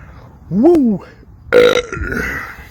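Two loud, close burps after gulping Mountain Dew Flamin' Hot soda, the first a rising-and-falling tonal belch, the second a harsher, rougher one that trails into breathy noise.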